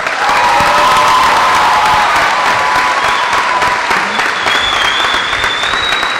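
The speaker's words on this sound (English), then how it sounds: "Please give them all a round of applause." Loud, sustained applause from a high school graduation audience, a dense wash of clapping with faint cheering that holds steady throughout.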